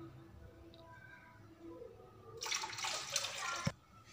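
Water is poured into a thin water chestnut flour batter in a kitchen, a soft trickle swelling into a louder, steady splashing pour for over a second before stopping abruptly, close by with no talking.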